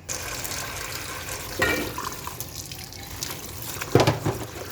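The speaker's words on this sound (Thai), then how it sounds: "เสร็จแล้วเราก็ไปล้างสายบัวกัน" Lotus stems are rinsed under running water, giving a splashing tap flow close by with bursts of sloshing and handling, the loudest splash near the end.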